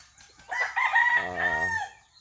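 A rooster crows once, close and loud, a drawn-out cock-a-doodle-doo lasting under two seconds against a quiet background.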